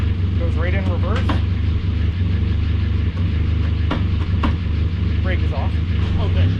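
A 1988 Ford Festiva's engine idles steadily up close, a low even hum as the car is shifted into reverse, with a voice talking over it.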